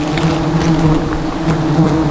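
Bees swarm around their nest during a bee hunt, a loud, dense, steady droning buzz heard up close, with no talking over it.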